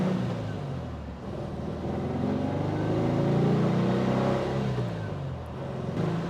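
A 1958 Porsche 356A Speedster engine pulling while driving on a road, its moderate in-cabin drone rising and falling in pitch through acceleration, steady and fairly quiet.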